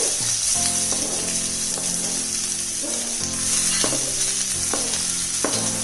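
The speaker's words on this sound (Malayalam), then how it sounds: "ഒരു 6-7 പച്ചമുളക്, കുറച്ച് കറിവേപ്പില നമുക്കിതിലേക്ക് ചേർത്ത് കൊടുക്കാം." Onion, green chillies and curry leaves fry in a pan after mustard seeds for a drumstick thoran, making a steady sizzle with intermittent stirring clatter, close and continuous with no talking.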